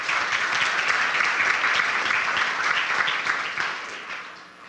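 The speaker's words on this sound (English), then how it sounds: "Please give a round of applause for Trudy." An audience at the Eagan Funfest ambassador coronation applauds a candidate with steady, full clapping that holds evenly and then begins to taper off.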